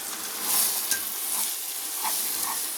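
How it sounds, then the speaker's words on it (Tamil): Ginger thokku frying in oil as it is stirred, a steady close sizzle with a few soft scraping stirs, no voices. "பாருங்க எண்ணெய் பிரியுது வந்து இப்போ நம்ம கிளறி விட்டுக்கலாம்"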